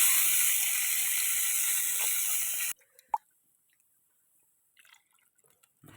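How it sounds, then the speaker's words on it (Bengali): Water poured into a pan of cooking green chilli curry gives a loud steady hiss for nearly three seconds, then cuts off, leaving near silence with a few small faint clicks and drips. "জল দিতাছি, জল।"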